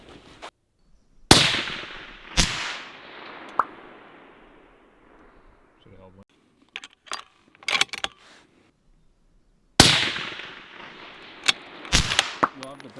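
Rifle shots with SIG bullets fired at a target 486 yards away ring out outdoors: two loud sharp cracks with decaying echoes, a run of quieter clicks and clatter, then two more close reports.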